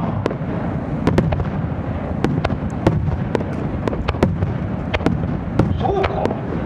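Fireworks from the autumn Omagari fireworks show in Japan crack and pop at a distance. Scattered sharp bursts ring out irregularly over a steady crowd-like murmur.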